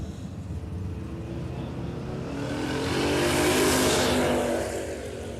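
A radial-tire drag race car launches off the start line at the Warwick Dragfest, its engine roar building over a few seconds to a loud peak and then easing slightly as it pulls away.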